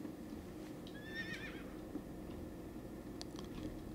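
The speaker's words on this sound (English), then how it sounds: "get back on my horse" A horse mount in World of Warcraft gives one clear whinny near the start, with soft hoof clops and steady game ambience running underneath and no talking.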